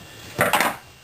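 A metal breaker bar fitted with a 17mm socket is handled, giving a brief metallic clink and clatter of steel tool parts, close and fairly loud against a quiet room.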